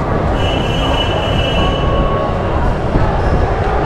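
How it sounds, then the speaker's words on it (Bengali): Trains move through Howrah station, with loud rumbling railway cars and a sustained metallic wheel squeal running close by over a continuous platform din. "হাওড়া স্টেশনে বসে আছি"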